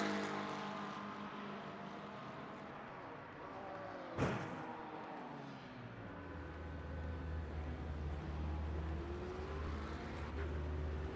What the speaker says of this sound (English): I hear a lot of crash and noise of engine.